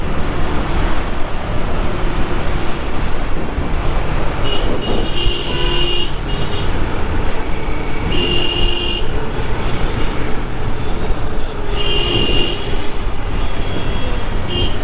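Riding a motorcycle along an empty Dhaka road brings constant loud wind rumble and road noise, with several short horn toots from nearby traffic.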